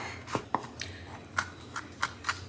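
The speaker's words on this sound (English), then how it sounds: "Chopping out the serrano." A knife chops a serrano pepper on a cutting board in a home kitchen, giving about eight quiet, irregular taps spread over a few seconds with no talking.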